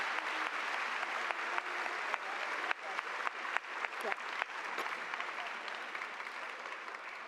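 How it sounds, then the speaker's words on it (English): A crowd claps steadily for several seconds at a high school graduation, moderately loud, with a few sharper individual claps standing out near the middle. "Can we give them a round of applause?"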